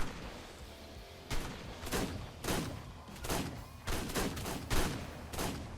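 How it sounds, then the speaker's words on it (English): Pistols and shotguns firing in a PvP raid fight in the video game Ark: a string of sharp shots in uneven bursts, some close together, over low background noise with no talk. "the simple pistols are going off. And the shotties."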